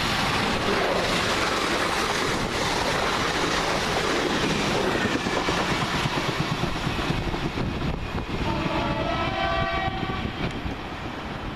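A 12-coach passenger train arriving at Hilsea station rumbles loudly and steadily nearby with rhythmic clattering of wheels on rails, and a brief high squeal of brakes near the end.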